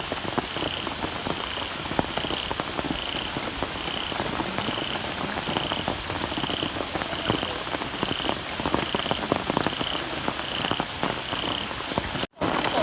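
Heavy rain pours steadily during an outdoor ceremony in Sangkha, Surin, Thailand, a dense continuous hiss drumming on surfaces with frogs croaking in a repeating pattern throughout.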